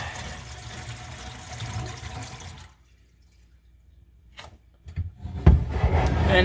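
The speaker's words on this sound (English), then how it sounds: "so what we'll do is we'll pop the drain." A kitchen sink drain is popped open, letting standing water drain away; a watery gurgle and rush runs first, falls silent, then returns with a few clunks and louder draining near the end.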